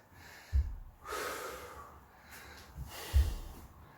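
Heavy breaths during a resistance band full-body workout, a few deep, close inhales and exhales with sharp, snorting onsets and no speech.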